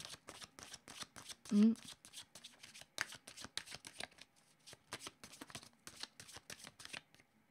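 Tarot cards being shuffled by hand, a rapid series of crisp riffling flicks and slaps in quick bursts, close and fairly quiet, with a voice speaking briefly among them.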